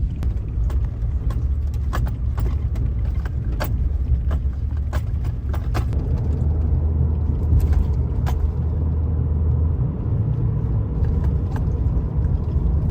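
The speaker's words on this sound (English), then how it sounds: "It is a bumpy ride today with all the frost heaves." Inside a vehicle on a road rough with frost heaves, a loud steady low rumble of tires and engine with repeated rattles and knocks from the bumps, no voices.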